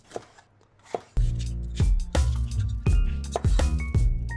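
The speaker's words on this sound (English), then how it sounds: "Again, slice it into strips." Knife slicing a green pepper into strips on a cutting board, a few soft cuts followed by a run of firm, irregular chopping knocks, close and clear, with no talking.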